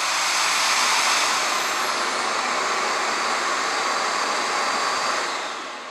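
A Numatic NDD 900A vacuum extractor whirs in a steady, hissing high-pitched roar that carries on alone after the connected tool stops, fading slightly toward the end.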